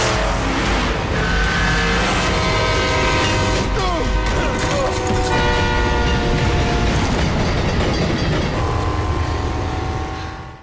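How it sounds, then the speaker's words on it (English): Computer-generated train rolling past with a horn blast, steady rumble and clatter throughout, loud and continuous with a sustained tonal horn overhead. "that's our computer-generated train"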